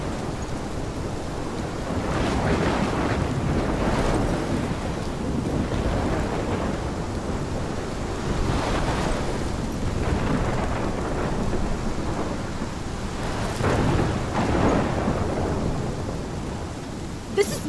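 A thunderstorm in the video game Life Is Strange brings heavy, continuous rain with repeated rolling thunder rumbles swelling and fading throughout, loud and enveloping, with no speech.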